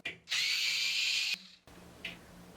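A power screwdriver whirs for about a second while loosening a screw on a kitchen sink cabinet handle, close and fairly loud, with a faint click before and after.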